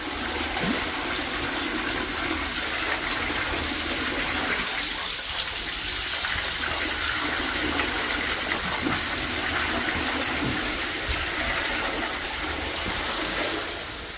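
Shower water pours steadily into a tank holding large arapaima fish, a loud, continuous gushing splash with no speech.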